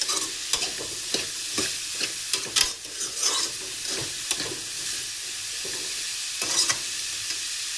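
Bitter gourd fries in hot oil with a constant loud sizzle, while a spatula stirs it and scrapes the pan in irregular clacks throughout.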